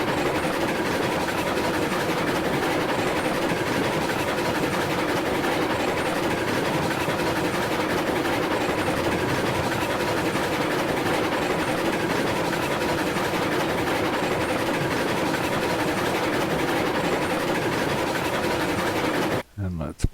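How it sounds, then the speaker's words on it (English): A train coasting along the line in the railroad video game Railroads Online gives a steady, unbroken rumble and rolling wheel noise that runs at even loudness throughout, then cuts off abruptly near the end. "I'll let the train coast"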